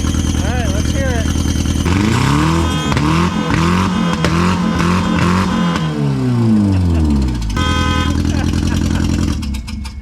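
A homemade car's engine revs loudly through its exhaust, pitch sweeping up and down in repeated surges, close and dominant, with people talking around it.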